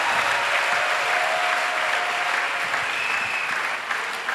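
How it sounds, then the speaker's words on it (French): A church congregation applauding, steady loud clapping from many hands that holds throughout and eases slightly at the end. "Please clap for the Lord."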